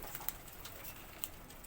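Pigeons of the patti-wala breed coo softly in the background, a few faint bird calls and light chirps over a quiet outdoor hiss, with no talking.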